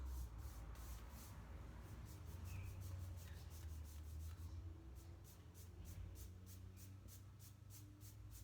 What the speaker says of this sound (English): Just kind of wiping off that excess there.